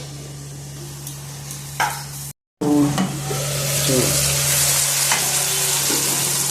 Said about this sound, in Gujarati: હવે આપણે ફરીથી શાકને થોડુંક હલાવી લઈશું